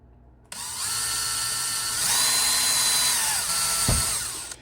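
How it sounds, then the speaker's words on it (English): A power drill whines steadily for several seconds while drilling into a metal Art Deco pendant, pitch shifting slightly as it bites into the hard metal, with a short thump near the end. "Let the drill do its work. Don't press too hard."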